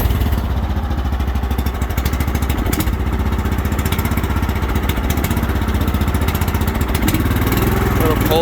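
A 2013 Huskee riding lawnmower with a two-bag bagger runs close by, its small engine chugging loud and steady with a rapid, even pulse throughout.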